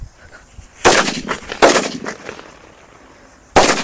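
Five Lakshmi firecrackers tied together burst outdoors as Diwali crackers, three loud sharp bangs, each with a crackling tail, spaced out over a few seconds.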